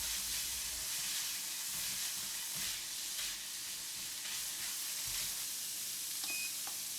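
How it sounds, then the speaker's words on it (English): Minced meat fries and sizzles in a pan on the stove, a steady hiss broken by soft scraping stirs as the clumps are broken apart, with a couple of faint beeps near the end. "While stirring, try to separate the minced meat that is clumped together so they won't have lumps like this."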